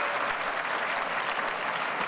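An audience claps steadily and loudly throughout, a dense continuous wash of applause at a pitch-competition vote for Parity Homes, with no voices standing out.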